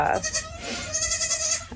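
Kinder goats bleat in a barn: one close, wavering bleat is held for over a second, with softer rustling noise around it.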